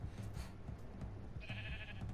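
A sheep in the Minecraft Story Mode game gives a short, faint bleat under a constant noisy background and low rumble.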